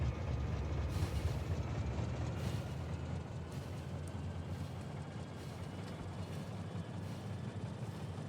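A train running in the video game Factorio, a steady low rumbling drone with a dense broadband wash, moderately quiet and continuous, with no talk over it.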